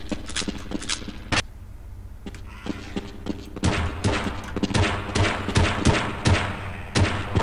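Gunshots in the video game Half-Life 2: Episode Two, a rapid series of sharp loud shots, sparse at first then dense bursts of fire, close and dominant.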